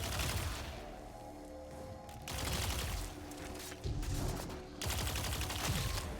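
Rapid automatic gunfire in the video game Destiny: The Witch Queen, shooting at glowing spore membranes; sustained bursts of shots broken by brief lulls, dense and loud throughout.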